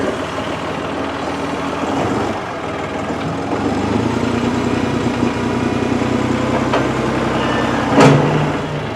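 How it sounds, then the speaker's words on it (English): An old tractor engine on a ranch cranks and settles into a steady idle, a low continuous rumble with a brief sharp burst near the end. "All right, let's crank her up."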